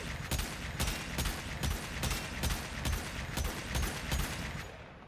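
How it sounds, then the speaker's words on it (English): Aklex Prime pistols in the video game Warframe fire a rapid, evenly spaced string of about a dozen sharp shots, each with a punchy crack, held at a steady level until the last shot trails off. "But if I keep pressing the trigger"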